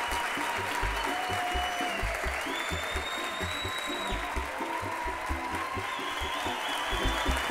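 An audience at a children's singing contest final applauds steadily and densely throughout, a sustained crowd clapping at an even loudness.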